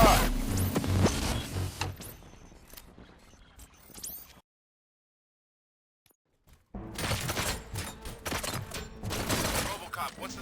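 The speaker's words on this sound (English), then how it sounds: "Gunshots? What's going on?" Gunfire from the RoboCop: Rogue City video game crackles in sharp bursts with mechanical clatter, dropping into near silence midway before a dense volley of loud shots resumes.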